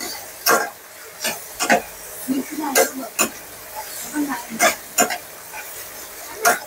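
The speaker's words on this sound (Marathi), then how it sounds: "हा पास्ता आपण टाकून घेऊया आता याच्यात। मस्त आपण हलवून घेऊया।" Boiled pasta being stirred in a pan, giving irregular soft scraping and clinking knocks of the utensil against the pan, moderately close, with faint background noise.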